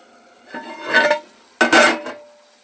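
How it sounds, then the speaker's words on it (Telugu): A metal lid is set down on a cooking pot of tomato and drumstick curry in two scraping, clattering bursts, the second sharper and louder, in a quiet kitchen. "తర్వాత మూత మూసేసేయాలి."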